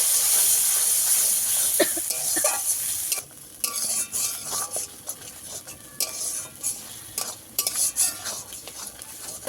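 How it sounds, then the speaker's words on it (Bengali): Fish curry with tangy yogurt being stirred and sautéed in a pan, steady sizzling hiss broken by repeated scraping strokes of a spoon against the metal, with a brief quieter dip partway through. "ভালো করে একটু কষিয়ে নিতে হবে।"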